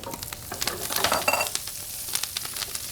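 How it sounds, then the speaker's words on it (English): Halved, washed Brussels sprouts hit a hot pan of rendered bacon fat and sizzle and crackle steadily up close, with light stirring scrapes and no talking. "into this pan, we're gonna take our halved washed Brussels sprouts"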